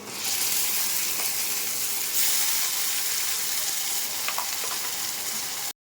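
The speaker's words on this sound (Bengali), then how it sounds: "এবার আমি মশলাটা দিয়ে দিচ্ছি।" Spices tipped over onion frying in a wok raise a loud, steady sizzle with a brief hissing surge partway through, then the sound cuts off abruptly at the end.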